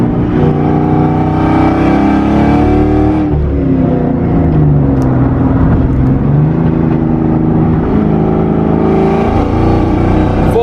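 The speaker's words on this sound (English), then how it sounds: "So about around a little bit more than half throttle, it cuts out." A boosted Ford Mustang GT engine drives hard under partial throttle, its loud harmonic drone dipping and stuttering as power cuts out and returns, steady and close throughout with no talking.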